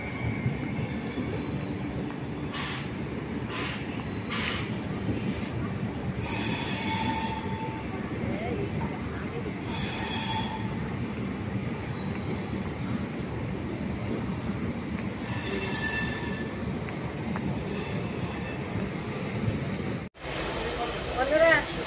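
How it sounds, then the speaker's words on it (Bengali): A passenger train pulls away and runs on its rails with a continuous low rumble, broken by repeated high wheel squeals and clatter, then a brief dip near the end. Faint voices sit in the background. "ট্রেন ছেড়ে দিল এখন, একদম রাইট টাইমেই ছেড়ে দিল ট্রেনটা"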